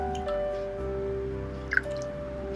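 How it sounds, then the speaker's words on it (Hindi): Hot pink tea made with milk, pistachios and almonds pours into a cup, giving a steady, close liquid trickle with a brief splashy burst near the end. "अब मैं इसको प्याली में डालूंगी।"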